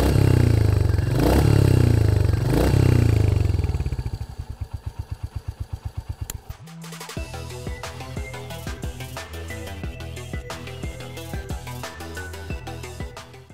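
Royal Enfield 350 single-cylinder long-stroke motorcycle engine, Hunter or Classic, giving a loud low roar that winds down into distinct firing pulses, cuts briefly, then settles into a rapid, clattering mechanical beat close by.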